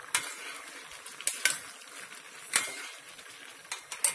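A spoon stirs aşure pudding in a pot, giving soft, irregular scraping clinks and taps against the metal. The sounds are close but fairly quiet over a faint background hiss.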